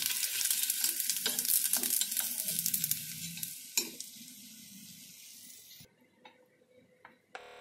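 Potato pakoras frying in hot oil with a bright, continuous sizzle, close by, joined by stirring and a few clinks of utensils against the pan before the sizzle cuts off and scattered ticks remain.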